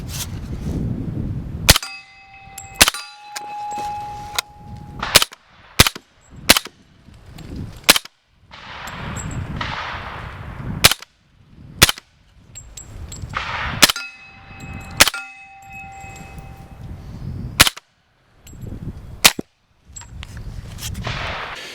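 An EXtar EP45 pistol fires with a large suppressor at an outdoor range, roughly a dozen sharp, spaced shots with short metallic rings and quiet gaps between them, close and loud.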